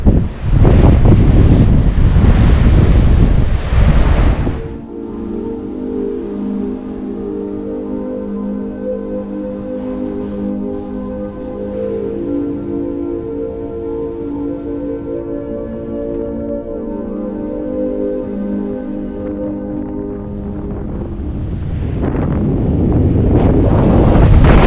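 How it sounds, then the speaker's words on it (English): Strong wind buffets the microphone on Balnakeil Beach in Scotland, with heavy low rumble at the start and end and a steady engine-like drone and surf underneath in between. "So it's a bit blustery today."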